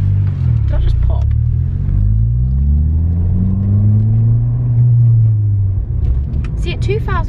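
Ford Fiesta ST with a Scorpion exhaust, engine rumbling close and loud with slow rises and falls in pitch as the revs build, a deep exhaust drone throughout with brief voices near the end.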